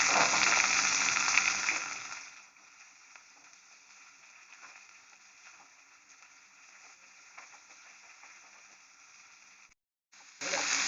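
Coriander leaves sautéing in sesame oil give a steady, soft sizzle that is loud and dense for the first two seconds, then settles into a quieter, continuous hiss with faint stirring ticks, cutting out briefly near the end.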